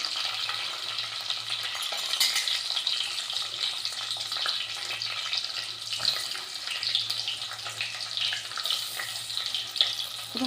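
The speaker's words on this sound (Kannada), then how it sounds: "ಸ್ವಲ್ಪ ಫ್ರೈ ಮಾಡಬೇಕು, ಸ್ವಲ್ಪ ಬಾಡುವ ತನಕ." Chopped onions frying in a pan for mint pulao, a continuous hissing sizzle with occasional stirring scrapes, fairly close and alone.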